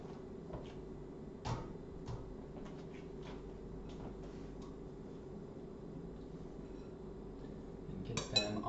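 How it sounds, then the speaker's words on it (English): Chocolate chip cookie dough scooped onto a baking pan with a metal utensil, giving faint scattered clinks and scrapes over a quiet kitchen background. "So now I will scoop out"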